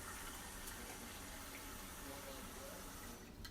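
Tap water runs steadily into a container, a soft continuous gush of filling liquid for a homemade bleach sanitizer, fairly quiet and close, ending with a few small clatters.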